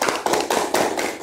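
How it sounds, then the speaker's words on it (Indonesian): A short burst of audience clapping for Bapak Haji Azaki at a large tempe factory event, loud and close, with sharp uneven claps bunching into a few quick surges. "kasih tepuk tangan buat Bapak Haji Azaki."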